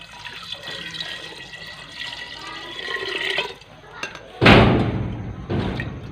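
Water splashes and pours into a pot of meat being cooked for yakhni, a loud broadband gush starting partway through after quieter kitchen sounds and a few knocks.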